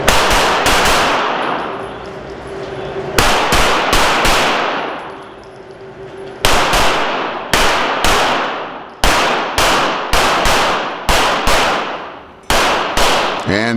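Pistol gunshots ring out at an indoor USPSA shooting match, with sharp, loud reports in rapid strings and clusters, some shots coming in quick pairs and echoing in the enclosed range.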